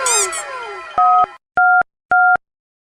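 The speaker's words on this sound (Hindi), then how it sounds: "अभी फोन लगाता हूँ।" A mobile phone keypad beeps through three evenly spaced dialing tones after a brief burst of cartoonish sound, each tone loud, clean and steady.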